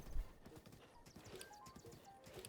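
Horse hooves clip-clop in a steady trot in Zelda: Breath of the Wild, fairly faint under soft game ambience with a faint whinny.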